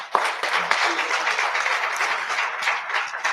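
Audience applause in a conference hall at a Wikimedia community gathering, steady dense clapping from a crowd filling the whole stretch at moderate loudness, with no voice over it.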